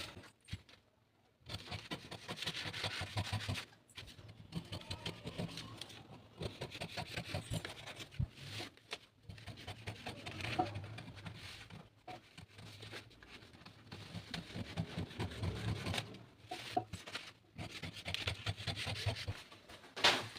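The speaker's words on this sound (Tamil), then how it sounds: "இனி நம்ம பேக் பார்ட்டையும் கட் பண்ணிடலாம்." Scissors cutting the back panel of halter neck blouse fabric, a steady run of rubbing, snipping and patter-like handling noises with short pauses, close and fairly quiet with no talk.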